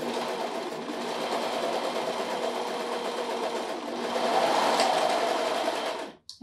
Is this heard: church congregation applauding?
no